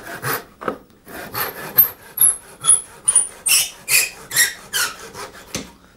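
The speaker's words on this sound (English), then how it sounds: "we can just clean that up by sawing that waste away." A hand saw rasps through wood in quick, even back-and-forth strokes, sawing away waste from a mortise and tenon joint, close by with no talking.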